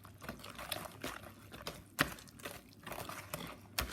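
Banana cake batter with three eggs gets a quick stir in a bowl, giving a close series of soft wet clicks and scrapes that come in an uneven rhythm with small splashy accents.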